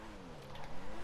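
A car in GTA V pulling away with a double clutch, a brief engine tone that rises in pitch as it revs, with some crackle, short and fairly near.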